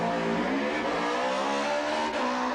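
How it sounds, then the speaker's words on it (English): A supercharged drag racing engine roars at full throttle, its loud, sustained exhaust note rising steadily in pitch as the car accelerates, close and alone without voices. "We hear that supercharged engine, quite a distinct exhaust note rather than the turbo."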